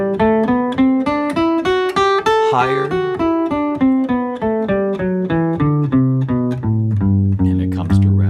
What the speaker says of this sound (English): So that's the sound of the basic scale.